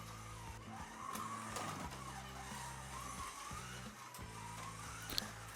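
A 1/24 scale BRM Simca 1000 Rallye slot car runs laps on a track, its small electric motor giving a steady whine with rising and falling pitch as it passes, continuous and fairly quiet throughout.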